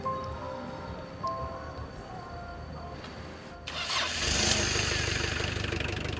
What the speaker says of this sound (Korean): 오래된 승합차가 시동을 건다